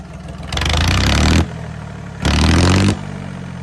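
A tractor engine fitted with a loud aftermarket Holland silencer revs hard twice, each burst a throaty, rumbling roar separated by a quieter idle.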